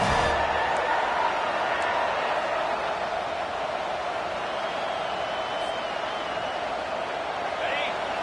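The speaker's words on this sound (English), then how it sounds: "This crowd bringing serious noise on this huge, huge 4th down play" A stadium crowd at an Alabama vs Clemson college football game keeps up a steady, loud, distant roar before a big 4th down play, with a commentator talking over it.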